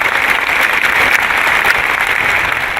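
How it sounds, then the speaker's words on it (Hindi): A seminar audience at a motivational talk breaks into dense, sustained applause, a loud, steady wash of many hands clapping with no break. "इनके लिए तालियां क्यों बज रही है"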